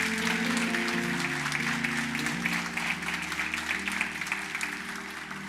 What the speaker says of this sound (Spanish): Alguien puede aplaudirle fuerte al Señor